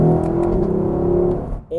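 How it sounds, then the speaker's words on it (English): Lexus LC500 engine heard from inside the cabin during a downshift: a steady low drone that fades, then a short sharp blip of revs at the end. "we got really nice sounds for downshifts and like way crispier downshifts in the LC500"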